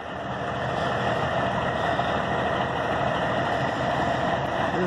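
A 1977 Peterbilt 359 truck's heavy diesel engine runs steadily at close range, a continuous loud low rumble with a constant mechanical drone and no talking.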